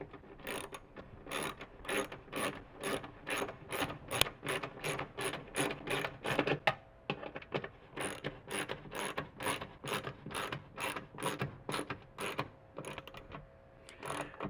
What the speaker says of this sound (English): grab your 13mm wrench again and put that over the nut, and again socket. I'm just going to tighten that up.